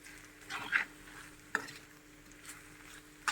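Taro root curry stirred in a pot, heard as soft, close scraping and a few spoon knocks over a faint simmering sizzle.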